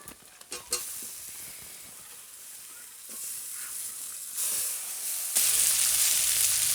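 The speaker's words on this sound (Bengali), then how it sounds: "আমি এখন মাছটা দিয়ে দেব।" Bata fish dropped into hot oil in a village kitchen, starting with a few clattering knocks, then a sizzle that swells and grows into a loud, bright, continuous crackle near the end.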